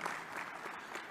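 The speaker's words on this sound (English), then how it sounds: "Clap hands for him." Brief burst of hand clapping from a crowd, steady and fairly faint, with no voices over it.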